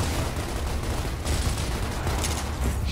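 Gunfire from the Gears of War video game forms a dense, continuous crackling burst of rapid shots, moderately quiet and alone with no voices over it.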